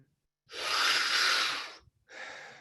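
Two forceful breaths from a group breathing exercise: a long, loud rushing breath lasting over a second, then a short pause before a second breath begins, close and clear with no talk.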